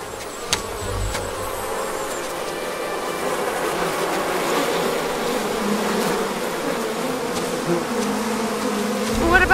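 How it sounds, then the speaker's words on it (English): A close, dense swarm of bees buzzing steadily at a hive while honey is taken, a continuous drone that swells slightly toward the end. "One of the bees not sleeping?"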